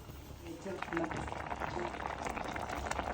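A Kerala-style fish curry with curry leaves and green chilies comes to a boil, a soft bubbling simmer with light crackle, faint throughout.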